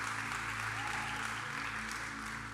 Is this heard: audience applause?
yes